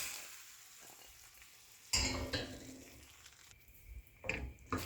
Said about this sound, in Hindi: उबले हुए चने डाल दूंगी।